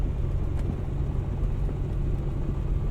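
A Piper Comanche 250 engine rumbles at a low, steady idle-like drone while taxiing on a backcountry airstrip in a Microsoft Flight Simulator game, continuous with no speech.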